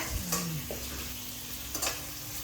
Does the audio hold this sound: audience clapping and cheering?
no